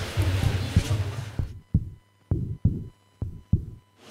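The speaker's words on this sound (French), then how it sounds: "Prendre pour corps en soi le son d'un autre cœur que le sien" Recorded heartbeats played in an art installation during Nuit Blanche in Paris: after a noisy, crowded stretch, a series of deep, evenly spaced thumps sound loud and alone over a low hum.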